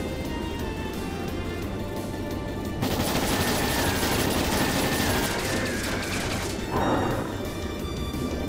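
Attack ships in the video game Trails in the Sky fire tranquilizer rounds in a loud, continuous barrage of rapid shots, which swells sharply midway and holds dense and heavy to the end.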